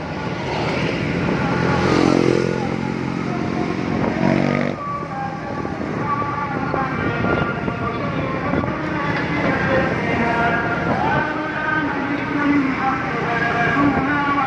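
Afternoon city traffic on Jalan Sultan Alauddin in Makassar heard from inside a moving car, with a continuous engine and road rumble, passing motorcycles and vehicles, and a busy mixed din throughout.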